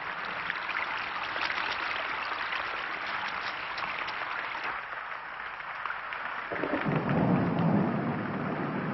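Heavy tropical rain pours steadily during a forest thunderstorm, a dense continuous roar with a deeper rumble of thunder building and swelling toward the end.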